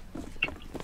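A chicken in the game CS:GO gives a single short cluck over low game background noise.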